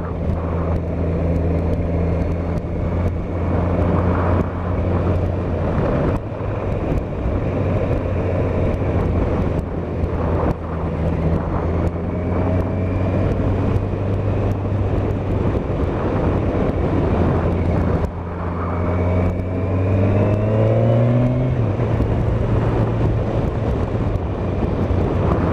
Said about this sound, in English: Very easy, smooth, clutchless up changes on this machine as well.